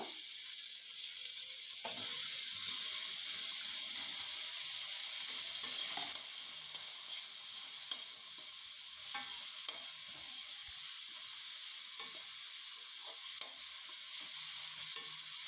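Tomatoes sauté in a pan for vegetable kurma with a steady close hiss and sizzle, broken by occasional scrapes and taps as a spoon stirs them, and no talking.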